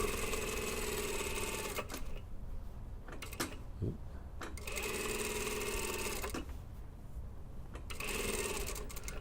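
A sewing machine stitches the side seams of a skirt in steady whirring runs, stopping and restarting a few times with brief quiet gaps and a small click, heard up close.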